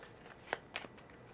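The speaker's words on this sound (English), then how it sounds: "The next thing that happens is that the cards get shuffled." Playing cards shuffled during a tabletop board game, a couple of quick crisp riffling bursts close by in a quiet room, separated by short pauses.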